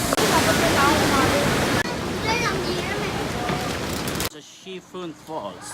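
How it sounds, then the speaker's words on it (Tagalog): Shifen Falls, a waterfall in Taiwan, roars as a loud, steady broadband wash of falling water through most of the clip, then cuts away to a quieter scene where a voice speaks. "Shifen Falls."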